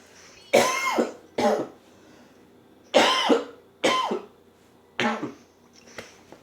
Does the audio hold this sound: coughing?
yes